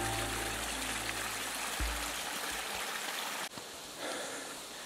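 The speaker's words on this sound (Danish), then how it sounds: "Et lille vandløb." A small mountain stream in Norway rushes steadily with a dense, unbroken water noise, close and fairly loud, with a low rumble fading partway through.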